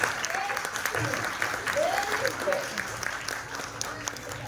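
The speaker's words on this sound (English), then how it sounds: "Let's give them a big round of applause." Audience applause fills a school assembly hall on Guru Nanak Jayanti, a steady wash of clapping from the crowd, with a few voices faintly audible underneath.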